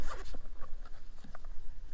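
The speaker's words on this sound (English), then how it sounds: "you have another cover with a zipper on it inside here that holds everything in place" A zipper is drawn open on the inner zippered cover of a hard flashlight case for a Brinyte HL28 Artemis hunting light, a close, raspy run of quick ratcheting pulls lasting about two seconds with no talking.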